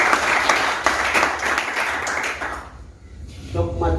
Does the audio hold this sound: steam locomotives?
no